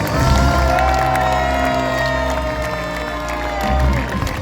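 A large crowd cheers and whoops at the Parc Astérix diving show, loud and sustained throughout, with an announcer's voice carrying over the roar.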